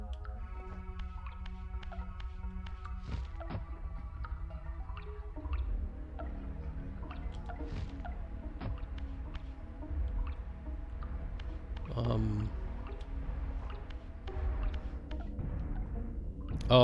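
Water at a hydro dam in Soul Reaver drips and trickles in irregular splashes over a soft, tonal ambient hum, with a heavier watery surge near the end.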